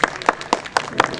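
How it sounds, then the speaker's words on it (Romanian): Scattered hand claps ring out at a hunting expo in Bacău, a handful of separate slaps in an uneven rhythm, close and sparse rather than a full crowd ovation. "aplauze."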